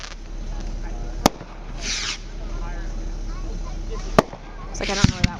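Fireworks at a college 50th anniversary show go off as a few sharp distant cracks and soft fizzing bursts over steady background rumble, with people talking nearby.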